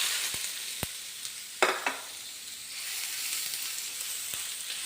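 Ginger frying in coconut oil in a pan over a high flame, a steady close hiss of sizzling with a few sharp spatula clicks and scrapes, no voices.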